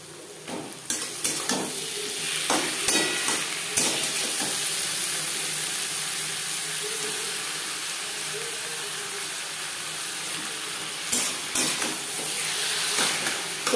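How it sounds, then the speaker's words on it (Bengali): Chillies and onion fry in hot oil in a pan for chicken bhuna, with marinated chicken to follow. A continuous close sizzle and hiss is broken by bursts of spatula scraping and stirring at the start and end. "হালকা করে ভেজে নেওয়ার পর দিয়ে দেব ম্যারিনেট করে রাখা চিকেন।"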